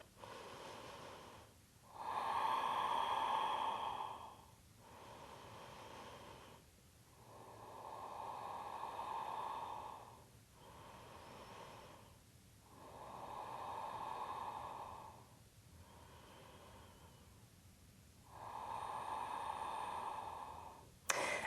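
Slow, deep yoga breaths during a hip-opening pose for third-trimester pregnancy, close and soft, with long steady inhales and exhales repeating in an even rhythm, five cycles alone without talk.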